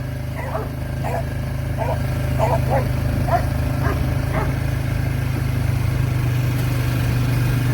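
Dogs near a chicken house bark excitedly at a four-wheeler, a string of short barks spread over the first few seconds, moderately distant, over the loud steady drone of the four-wheeler's engine.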